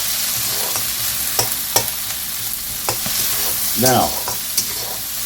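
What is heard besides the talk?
onion stir-frying in a hot wok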